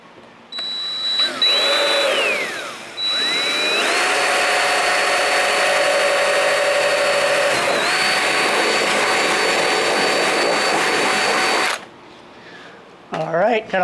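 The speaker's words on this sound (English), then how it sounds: "got a hole drilled in that" A power drill bores a hole in a plastic car bumper on a V8-swapped Celica, whining in loud sustained bursts with pitch dipping under load, a short start, then a long steady run of about eight seconds.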